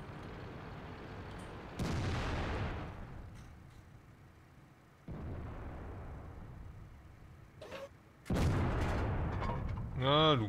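Tank cannon shells firing in World of Tanks from an AMX 50 Foch, with three loud booming blasts spaced a few seconds apart, each decaying into rumble, the last followed by a rising mechanical whine.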